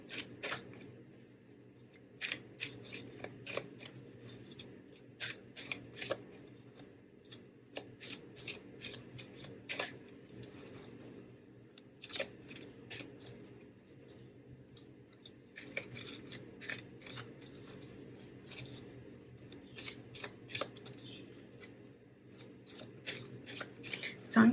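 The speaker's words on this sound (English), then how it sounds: "I'm gonna just pull a couple cards as advice for you and your person." Tarot cards shuffled by hand, with repeated quick riffling and slapping bursts in an irregular rhythm, close and fairly quiet, and no talking.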